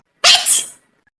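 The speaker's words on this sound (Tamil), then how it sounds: "இல்லடி தும்மல்." A single sharp human sneeze, loud and close, with a short two-part burst lasting about half a second, then silence.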